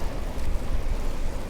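A car drives along a country road through standing water, giving a loud, steady rushing hiss of tyre spray over a low road and wind roar, with no voices.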